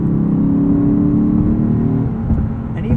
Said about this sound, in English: The V8 is surprisingly torquey.